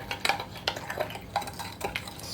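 A small whisk clinks quickly against a bowl while garlic powder is stirred into a vinegar dressing, a close series of light metallic taps in an irregular rhythm, no talking.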